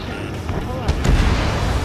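Aerial combat in the video game Ace Combat 7: Skies Unknown, with a steady roar of gunfire and artillery and a few louder booming bursts near the middle, partly under radio voices.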